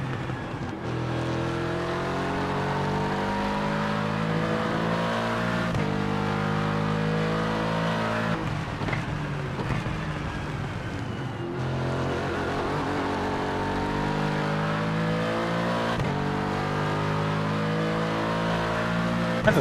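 A race car engine in the iRacing sim, Corvette or Dallara type, runs loud and steady for the whole stretch, its harmonic drone rising and falling through gear shifts with crackling overrun burble as it lifts off, heard alone with no talk.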